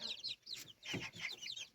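Bantam chickens clucking and chirping close by, a busy run of short calls with brief pauses, no talking.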